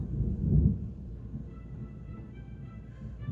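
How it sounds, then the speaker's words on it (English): A low, rolling rumble of thunder outside swells loudly in the first second, then fades into a softer, steady distant grumble with no talking. "it's thundering outside, so I guess that's my cue"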